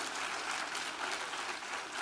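Audience applause, a dense bright wash of many hands clapping that stays steady and fairly loud throughout, with no voices standing out.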